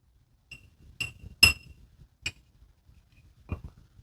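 Metal bar spoon stirring honey into a cocktail in a glass, producing a handful of sharp, bright clinks at irregular intervals against near silence.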